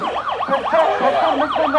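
An ambulance siren wails loudly in a rapid repeating up-and-down pattern, close at hand, passing through a street protest in Shariatpur, Bangladesh.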